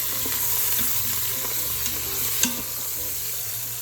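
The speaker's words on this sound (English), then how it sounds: "Just gonna add those in and stir it up." Green and orange bell peppers sizzle steadily in a pan over high heat, with scraping stir strokes and a sharper clack near the end; no talking.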